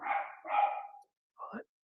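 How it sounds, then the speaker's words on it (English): A dog barks in the background during a live online debate stream, with two rough barks close together followed by a shorter one, moderately loud and alone. "damn dog."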